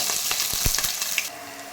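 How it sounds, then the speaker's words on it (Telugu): Cumin, mustard seeds, chana dal and urad dal crackle in hot oil for palak rice, a bright continuous sizzle with small pops and a few soft stirring knocks up close. "కొంచెం జీలకర్ర వేసుకుంటున్నాను, ఆవాలు, శనగపప్పు,"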